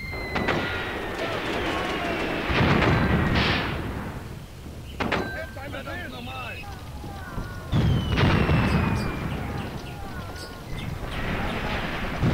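Heavy artillery and tank fire in the wargame Graviteam Tactics: Mius Front, with loud repeated booms and blasts arriving in bursts, some near and some distant, and someone talking between them.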